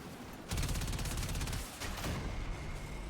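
Dense, sustained gunfire from the video game Warframe, a loud continuous rattle of rapid shots with booming low rumble, dipping briefly and then resuming.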